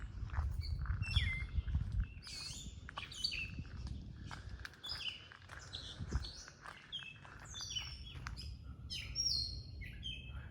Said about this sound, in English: What was that bird?